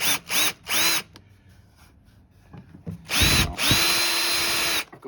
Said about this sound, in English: Now I've put the drill on low speed up the top here, and I'm just going to go nice and slow